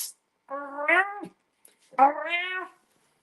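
Two drawn-out meows, clear and close, separated by a short pause, the second rising then falling.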